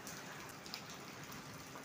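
Rain falls on an evening in Jhelum, a faint, even hiss of drops that stays steady with no other sounds.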